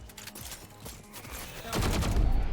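Bursts of rifle fire from a Vandal in the shooter game Valorant, a rapid stream of close, loud shots that swells sharply in the final second.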